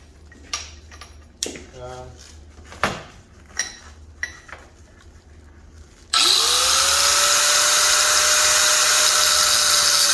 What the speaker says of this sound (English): Grinder. Right down. We're going to cut this.